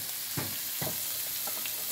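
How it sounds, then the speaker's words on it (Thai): Curry paste for spicy stir-fried Thai eel is stirred in a hot pan, giving a steady sizzle with a few soft scrapes of the utensil, close and moderately loud, with no talk. "ผัดเครื่องแกงให้เข้ากัน"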